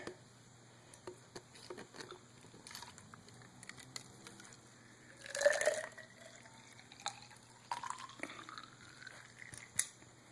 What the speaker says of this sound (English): Dump this first bit back out because there could have been a little bit of water in the tube.